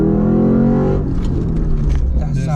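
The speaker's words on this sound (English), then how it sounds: "20 miles an hour, foot down" A 2008 Lexus IS F sports car engine roars under hard acceleration, loud and close, its pitch climbing as the revs build, with voices talking over it.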